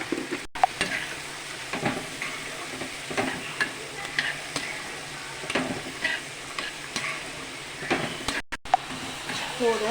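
Food sautés in a hot pan with a steady sizzle and frying crackle, while a utensil stirs it in repeated, roughly rhythmic scraping strokes, close up and fairly loud.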